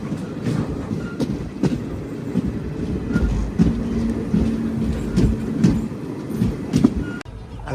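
Visakhapatnam Machilipatnam Express running through the countryside, heard from inside the coach: a steady rumbling roll with repeated clickety-clack wheel beats over rail joints and a brief metallic whine midway.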